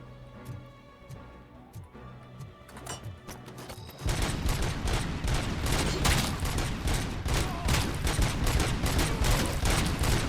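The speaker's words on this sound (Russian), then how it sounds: "Пулемет." Sustained machine gun fire in the shooter RoboCop: Rogue City, a dense, rapid, loud stream of shots that bursts in abruptly after a few seconds of quieter gameplay and keeps hammering without a break.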